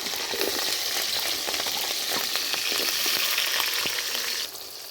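Fenugreek, fennel, green chilli and onion frying in hot oil for a village-style tamarind curry, with a loud, close, crackling sizzle and a few stirring scrapes that drops off sharply in the last half second.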